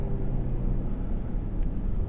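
Engine of a 2017 Mercedes GLE43 AMG in Sports Plus mode with valves open, a steady low rumbling drone heard close from inside the car, with no talk.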